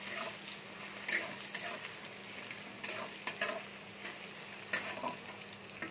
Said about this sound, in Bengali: পেঁয়াজগুলো একটু ভেজে নেবো